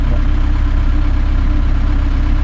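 A 1964 Mercedes W110 190D with a 53-horsepower 1.9-litre four-cylinder diesel idles close by, giving a loud, steady, rapidly pulsing clatter and low rumble with no talk over it.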